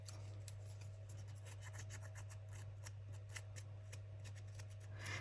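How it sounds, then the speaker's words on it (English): Small purple scissors snipping at a crafting table while making junk journal cards, with light, irregular cuts and rustles over a steady low background hum. "It's my little purple scissors."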